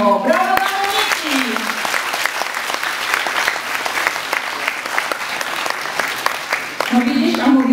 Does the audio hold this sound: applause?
yes